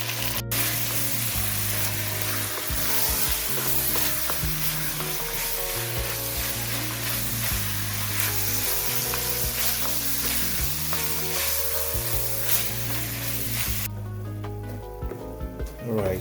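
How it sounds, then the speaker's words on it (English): Ground beef searing in a pot, a loud, steady, crackling sizzle that runs continuously and close up, with faint stirring scrapes, then drops off abruptly near the end. "I'm going to let this get a good little sear on it, and I'm going to start to break it up"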